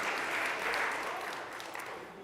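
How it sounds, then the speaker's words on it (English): An audience at a Sunday church service claps for a pitch, a soft, even wash of many hands that holds steady and then slowly thins out. "Can we give him a round of applause for a great pitch?"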